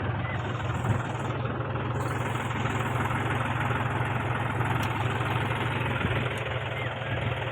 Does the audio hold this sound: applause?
no